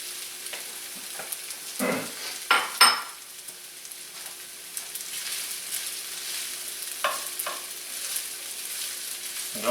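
Pork ribs tossed into a hot pan of fried rice, sizzling and crackling as a spatula stirs and scrapes, with intermittent louder stirring bursts over a steady frying hiss.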